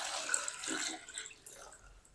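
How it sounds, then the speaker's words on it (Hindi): Water pours from a tap into a pan of cut potatoes, a steady broadband splashing rush that is fairly loud at first and gradually thins and fades over about two seconds, with no talk over it. "और अब हम इसमें शामिल करेंगे पानी।"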